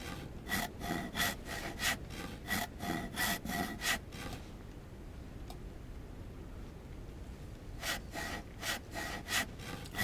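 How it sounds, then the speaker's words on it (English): Rhythmic back-and-forth strokes of a hacksaw in the DayZ Frostline survival game, a rapid series of raspy cuts, a short pause, then another burst of strokes, close and clear. "Just gonna use up this hacksaw as best we can."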